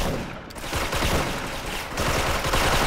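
Dense, continuous gunfire in the online shooter Special Force, a loud steady wash of overlapping shots and battle noise lasting the whole short stretch, with no talking.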